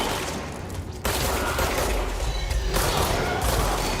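Heavy gunfire and explosive blasts erupt in the game Control, a dense, continuous barrage that jumps sharply louder after a second and stays intense and close.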